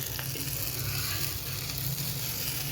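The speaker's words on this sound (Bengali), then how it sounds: "ডিমটা ফ্রাই করে নি সুন্দর করে দেখেন" An egg fries in a pan, making a loud, dense, continuous sizzle that stays steady and close from start to finish with no voices over it.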